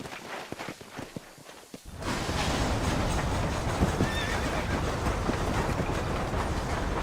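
Horse in the Red Dead Redemption video game whinnying, then trotting with a steady clip-clop of hooves over a loud continuous rumble, close and without talking.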